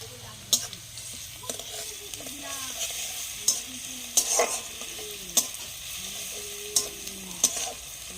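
Onions frying with garlic paste in a pan give a soft, steady sizzle, broken every second or so by a sharp spatula knock and gliding scrapes from stirring.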